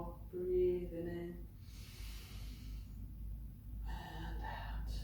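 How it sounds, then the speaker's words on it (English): A person draws in a deep, audible breath during a yoga and qi gong stretching class, soft and close with breathy hiss, followed by quieter exhalation sounds. "Do one more, breathing in"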